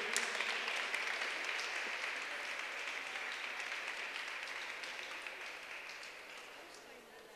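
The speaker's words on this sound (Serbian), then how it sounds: "Aplauz za likovne umetnike." A large audience applauds artists at a Children's Day event in the National Assembly, a steady wash of clapping that holds for several seconds and slowly fades.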